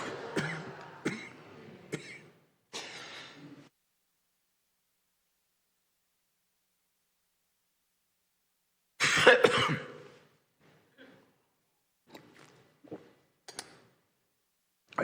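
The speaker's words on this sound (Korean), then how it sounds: "그냥 기침이 나요." A man coughing during a church sermon, several separate coughs and throat-clearing bursts in quick succession, then a pause and another cluster of fainter coughs.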